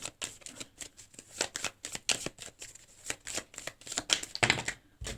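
Tarot cards being shuffled and dealt, a dense run of crisp riffling flicks and soft slaps close up, with no talking.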